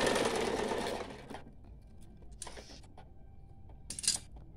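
A sewing machine stitching a cloth face mask whirs in a short close burst, then stops, leaving a quiet room broken by a few small clicks and taps.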